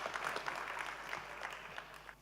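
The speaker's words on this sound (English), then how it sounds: "let's give a big round of applause to the chairman of this session" Applause from a plenary session audience at the FISITA 2018 conference greets the session chairman, a steady wash of clapping from a crowd lasting a couple of seconds with no voices.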